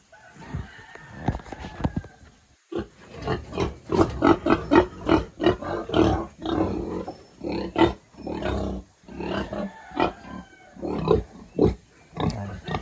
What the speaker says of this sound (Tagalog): kaya pala maingay yung mga baboy